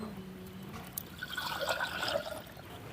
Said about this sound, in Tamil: ஒரு அரை சம்பு தண்ணி ஊற்றிக்கலாம்